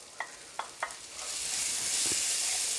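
Onions sizzle and fry in a pan as turmeric powder is stirred in, a few sharp clinks of a spoon early on before a steady, loud hiss of frying takes over and fills the rest.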